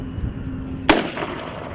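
A Carl Gustaf M3 recoilless rifle fires a single sharp, loud blast that cuts through a low background rumble and then fades into a short tail.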